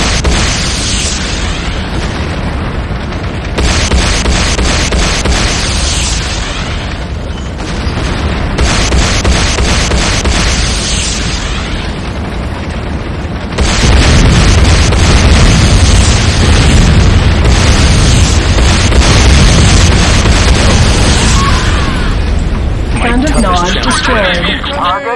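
Explosions from a Nod structure being destroyed in the video game Renegade, loud booming blasts over continuous dense battle noise, with a voice speaking over it.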